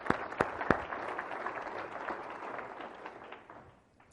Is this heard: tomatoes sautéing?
no